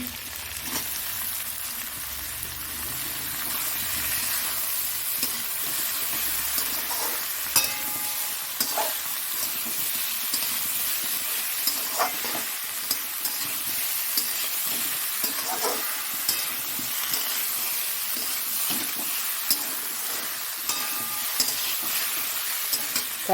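Potatoes frying in a pan with chillies, stirred again and again: a continuous close sizzle broken by regular scraping and tapping strokes of a spoon against the pan.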